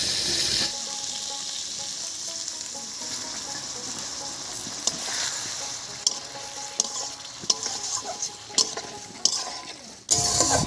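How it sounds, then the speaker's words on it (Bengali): Ground spice paste goes into a hot pan for a spicy vegetarian North Bengal hill squash dish, giving a steady sizzling hiss under scraping and clicking stirring strokes, with a loud burst of frying near the end. "এবারে বেটে রাখা মশলাটা এর মধ্যে দিয়ে দিচ্ছি"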